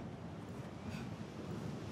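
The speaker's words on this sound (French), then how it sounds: "il y a le vent là qui nous" Wind blowing in the action role-playing game Dragon's Dogma: Dark Arisen, a steady faint rushing gust with no voices over it.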